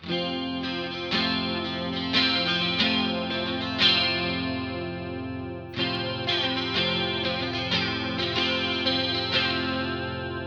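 Chorus modulation on a Mobius and MD-200 pedal shimmers over a clean strummed guitar, chords ringing with a wavering, doubled sheen, played close and alone across two phrases.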